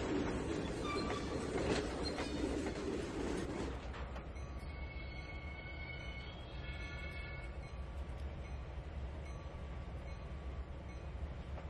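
A train runs in the Trainz 2019 railway simulator, a rumbling roll of wheels on track at first, then fading into a quieter steady hum with faint high squeals.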